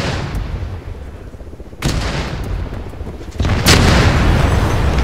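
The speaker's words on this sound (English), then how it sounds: "Artillery's coming in." Artillery fire and explosions in the video game ArmA 3: heavy, rumbling booms crash in twice. Each blast brings a sudden jump in loudness, and a dense, roaring wash lingers after it.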